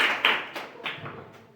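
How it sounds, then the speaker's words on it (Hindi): In a class 9 geometry lesson, a few scattered classmates clap for a student who answered correctly. Only a handful of light, separate claps sound close by in a quiet room. "वेरी गुड, ताली बजाओ उसके लिए।"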